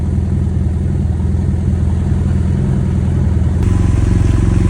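Close and loud, a BMW GS800 motorcycle with a Rotax engine runs steadily with a throbbing idle that rises slightly near the end.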